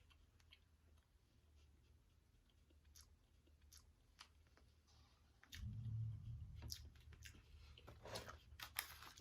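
Faint, close crunchy chewing of a dry, soft Philippine snack, quiet at first and then louder bites and mastication in the second half, with no talking.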